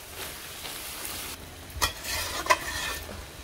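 Mixed vegetables being stirred and mashed in a pot during village home cooking: steady scraping and sizzling, broken by two sharper clanks of the spoon against the pot.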